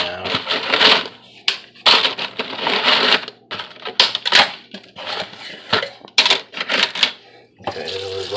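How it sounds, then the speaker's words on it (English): Dry lasagna noodles being snapped in half by hand in a kitchen, a rapid series of sharp, loud cracks and brittle crunches in bursts with short pauses between them. "Break them up really nice in half. Get them all broken in half."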